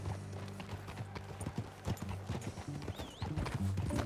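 In the Red Dead Redemption 2 video game, a horse's hooves clip-clop in a steady, uneven patter while it is ridden, under soft music and faint ambience.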